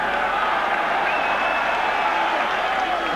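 A crowd at a 1984 New Zealand versus Great Britain rugby league test match keeps up a steady cheering roar, broad and continuous from start to finish.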